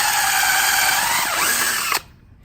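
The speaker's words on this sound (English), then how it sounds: "all you have to do is stick in your drill" A power drill whirs loudly and steadily for about two seconds while drilling into wood for garage shelves, its pitch dipping briefly under load before it abruptly stops.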